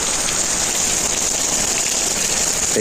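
Steady, dense rain pattering on a surface in Nellore district, constant and close with no breaks, a hiss of many drops throughout.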